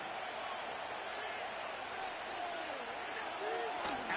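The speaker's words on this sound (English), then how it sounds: "This crowd into it now as we get to 3rd down." Stadium crowd noise in Madden 25 American football, a broad, steady roar of fans swelling before a third down, distant and sustained with a faint rising whistle near the end.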